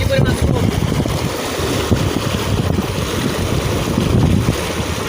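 Strong water rushes through a haor in a loud, steady roar mixed with heavy wind buffeting the microphone, continuous and close for the whole stretch.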